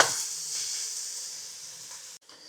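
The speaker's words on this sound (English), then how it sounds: "now we're going to add the burger. And we're going to cook that up till it's done" Ground beef for a burger-style chili casserole drops into a hot pan and sizzles with a bright, steady hiss that fades gradually and then cuts off abruptly near the end.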